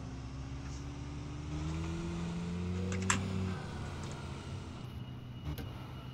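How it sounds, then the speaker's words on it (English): A car engine in the fishing game Call of the Wild: The Angler keeps up a steady low drone while coasting along a road, holding fairly even in level throughout with a faint higher tone mixed in. "when your car is coasting, it still makes the engine noise"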